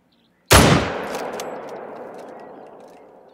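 A single hard-kicking scoped hunting rifle fires in Hunter Call of the Wild, one sharp loud crack out of silence followed by a long rolling echo that fades over about three seconds.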